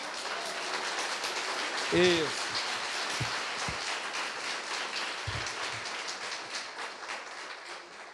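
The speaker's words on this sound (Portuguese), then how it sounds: "Quem ama Jesus, aplauda ele aí bem forte." Congregation applauding in a Portuguese-language church service, a steady broadband wash of clapping running throughout at moderate level, with a voice briefly speaking over it.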